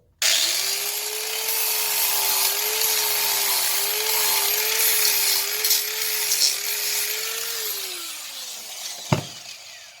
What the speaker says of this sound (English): I'm going to file these down with my flappy wheel